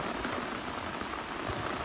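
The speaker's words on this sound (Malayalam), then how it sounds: "നല്ല കിടുക്കം മഴ കേട്ടോ" Dense, even rainfall patters continuously on a village road in Idukki, close and fairly loud, with no voices.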